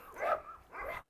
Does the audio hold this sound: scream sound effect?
no